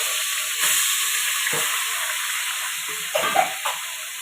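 Plenty of oil heating in a pan for a spicy village-style mutton curry gives a loud, steady hiss and sizzle, broken by a few soft knocks and stirring sounds.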